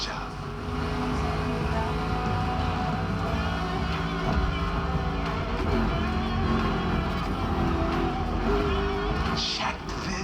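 A rally raid prepped Mustang GT in The Crew Motorfest drives with a rough engine rumble and shifting revs, continuous and fairly loud, mixed with game music or effects.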